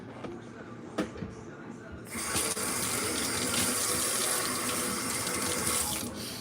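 A kitchen faucet turns on partway through and runs steadily while food or dishes are rinsed, a bright hissing stream after a few clinks and handling noises, with a person talking over it.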